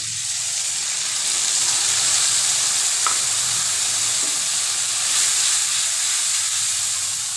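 Spice paste for a meat curry sizzles and crackles in hot oil, a steady loud hiss up close with occasional faint scraping of stirring.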